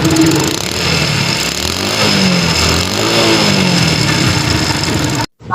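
Hero Splendor Plus motorcycle with a blown head gasket, engine running close and loud with a rough, chuffing idle that rises in a few revs, then cuts out abruptly near the end.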